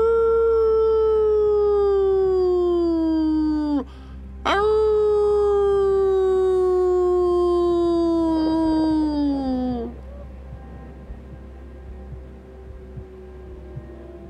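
A wolf in a snowy wilderness near a village threatened by wolves lets out two long, loud, sliding howls, the first broken by a brief gap before resuming and slowly falling in pitch, followed by a quiet hum.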